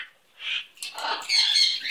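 A pet bird squawks and chatters indoors, a short run of shrill, close calls that rise into a sustained raspy burst near the end.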